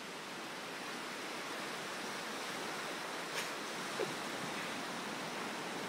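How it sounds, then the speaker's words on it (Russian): Storm waves pounding a rocky coast, heard as a faint, unbroken hiss and roar of surf with no distinct breaks or voices. "Вы слышите звуки шторма."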